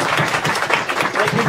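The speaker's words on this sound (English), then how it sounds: "Let's give him a big round of applause" Audience applause for author Kevin Hearne at a bookstore event, a brief burst of steady clapping with some voices mixed in.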